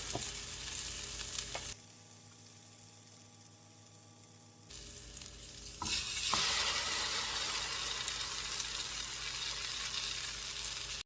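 Brioche French toast slices, soaked in cinnamon egg mixture, sizzle in a hot pan: a steady fry hiss that grows louder and brighter after the bread goes in, with no talking.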